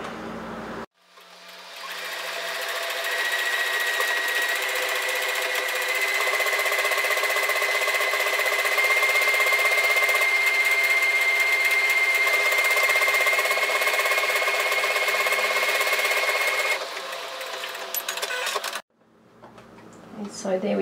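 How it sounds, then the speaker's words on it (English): Sewing machine stitching a one-step buttonhole on knit fabric with stabilizer, controlled by foot pedal; a steady, fast close whirring hum runs continuously for most of the clip, then briefly slows and stops. "Now this is a one-step buttonhole. I could push the automatic, but I actually like to use the foot pedal just to control the thread."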